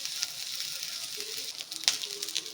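Black peppercorns and turmeric powder frying in a pan for a sprouted horse gram saaru, giving a faint, close, continuous sizzle with a few soft pops.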